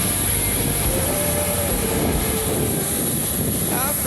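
Airplane engines run in a steady, continuous roar with a constant high whine on top, heard from aboard or beside the aircraft with no breaks or changes in level.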